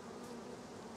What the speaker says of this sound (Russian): Вон пчелки что-то тут лазают.